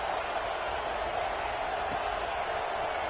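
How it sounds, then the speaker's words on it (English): Stadium crowd in College Football 26 giving off a steady, distant roar of buzzing noise that holds level for the whole stretch, with no clear speech on top. "this crowd is buzzing after that last score"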